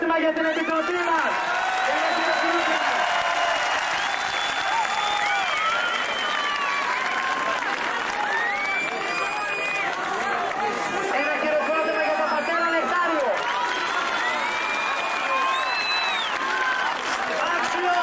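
Outdoor rally crowd in Athens applauding a committee, sustained clapping and cheering from a large gathering, with loud overlapping voices and a speaker talking over it.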